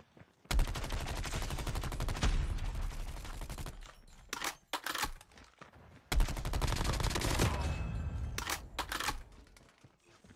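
Rapid assault rifle fire in Call of Duty Mobile, two long sustained bursts separated by a few short sharp shots and brief pauses, loud and close.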